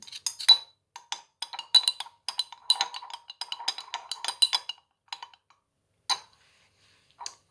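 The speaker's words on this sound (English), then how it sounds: "I've got a second teaspoon here that I can scrape the other spoon" A metal teaspoon scrapes and clinks against another spoon while salad dressing is mixed. Light, bright taps and scrapes come in quick irregular bursts, then thin out to a few separate clinks near the end.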